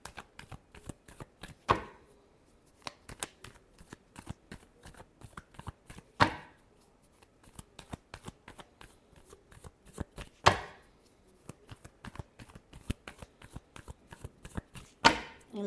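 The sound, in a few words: shuffling cards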